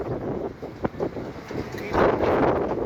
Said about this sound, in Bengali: এই যে খুব বাতাস